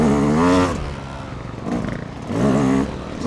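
A new Yamaha YZ250 two-stroke dirt bike climbs a hill at a motocross park, its engine revving hard and rising in pitch in two strong surges with a brief dip between, close and loud.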